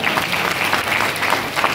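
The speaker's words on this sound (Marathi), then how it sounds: "वाजवा टाळ्या वाजवा" A crowd at a kirtan applauding, dense steady clapping throughout, loud and close, with no speech over it.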